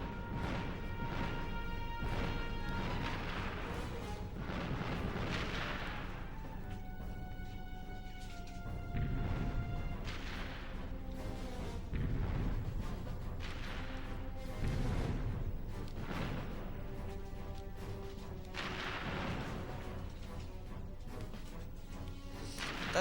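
Rapid weapon fire and explosions in the Ratchet and Clank video game, with repeated crashing blasts and whooshes under a steady layer of game music, loud and continuous throughout.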